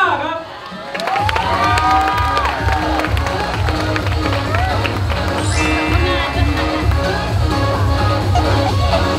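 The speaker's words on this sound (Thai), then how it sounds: "ขอเสียงปรบมือดังๆต้อนรับพิซซ่าโมโตพาซ่าครับ" A crowd cheers and shouts to welcome a guest at a university open house event in Thailand, excited voices and whoops over a steady low rumble with scattered claps, loud and sustained after a brief quieter start.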